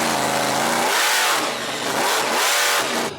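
A Bone Shaker monster truck's 525 cubic inch big block Chevrolet V8, a 1,500 horsepower methanol engine in a six-ton truck, revs hard and loud up close, surging in repeated bursts before cutting off abruptly.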